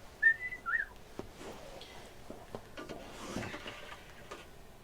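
A pet parrot whistles two short, clear rising notes near the start, followed by light ticking and clicking noises in a quiet indoor room.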